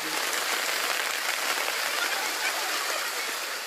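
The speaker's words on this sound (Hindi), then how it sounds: "उतने में बारिश तेज़ी से शुरू हो गई" Heavy rain pours down in a dense, steady, full-bodied hiss that stays loud and unbroken throughout, with no talking.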